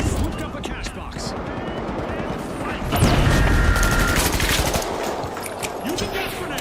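Dense video game gunfire with rapid bursts and a louder explosive boom near the middle, sustained and close, mixed with an underlying voice.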